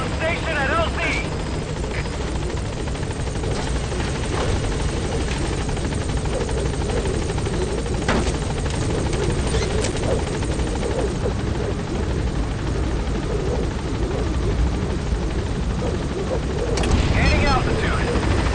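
Support helicopter in Metal Gear Solid V: The Phantom Pain arriving at a landing zone, a steady loud rotor drone throughout with a radio voice over it and brief game effects.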